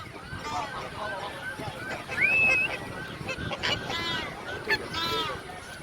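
Swans honking on Zoo Lake in Johannesburg, heard from a boat, with repeated bugling calls overlapping over a busy outdoor background of other birds and lapping water.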